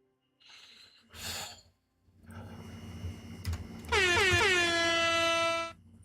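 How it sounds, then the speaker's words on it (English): A blaring air horn sound effect cuts in near the end, loud and sustained for under two seconds, after scattered breathy noises and sighs. "Thank you for the air horn."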